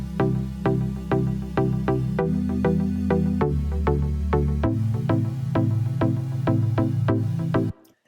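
Short synth plucks in a steady, even rhythm layered over sustained pad chords that shift every couple of seconds, playing alone and stopping abruptly near the end.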